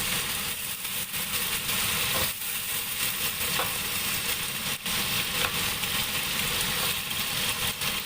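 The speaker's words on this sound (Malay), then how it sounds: "Kita tumis labu ni sampai dia agak lembut" Pumpkin sautéing in a pan, a steady sizzle running through the whole stretch with occasional stirring clatter and no voices.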